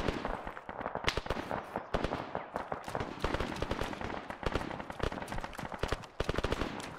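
Gunfire from the military video game Arma 3 crackles in dense, rapid volleys of sharp reports, some bursts close and punchy, others farther off, keeping up an almost continuous firefight.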